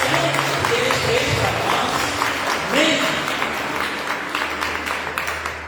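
A church congregation at a seminar claps together in a sustained round of applause, fading toward the end, while a voice speaks over it.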